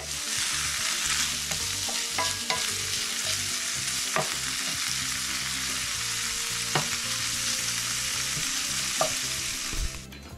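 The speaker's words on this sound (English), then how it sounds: "so while that bacon's rendering" Bacon fat rendering in a pan gives a steady, close, even sizzle with scattered sharper pops and crackles, continuing without talk for about ten seconds.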